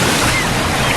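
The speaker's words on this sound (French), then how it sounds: "Vous l'entendez, le chuchotement des vagues que l'on avait presque oublié?" Ocean waves in a holiday club advert, a loud continuous rush of surf with a windy hiss, heard alone without voices.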